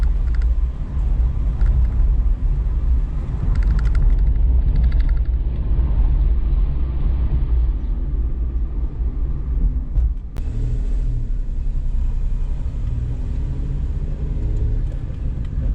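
A rented Seat Mii drives along roads on the Greek island of Kos, heard from inside as a continuous low engine and road rumble with brief clicks and a sharp knock partway through, no voices.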